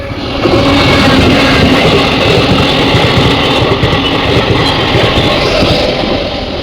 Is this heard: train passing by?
yes